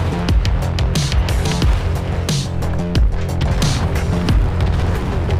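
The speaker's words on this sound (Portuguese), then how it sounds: "Alguém jogou artilharia." Artillery shells exploding on a T-34 tank in War Thunder, a loud series of booming blasts and sharp impacts repeating throughout over a constant rumbling engine drone.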